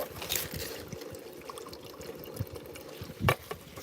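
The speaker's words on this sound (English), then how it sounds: "it's dripping down and feeding my plants." Pump-fed water trickles and drips continuously through a hybrid hydroponic garden system, a steady close splashing with a louder splash near the end and no talk.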